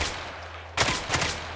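Gunfire in the video game Hellmet: after a quiet stretch, a burst of rapid shots starts abruptly and continues as a loud, dense volley to the end.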